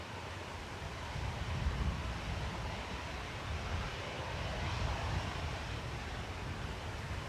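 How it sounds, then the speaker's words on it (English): An EasyJet airliner comes in to land at Manchester Airport during plane spotting. The engines make a steady, distant roar that swells slightly and blends with wind buffeting the microphone, with no voices over it. "EasyJet landing while we wait for this one."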